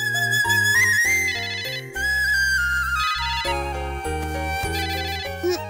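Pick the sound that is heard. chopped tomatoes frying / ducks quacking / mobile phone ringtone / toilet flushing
mobile phone ringtone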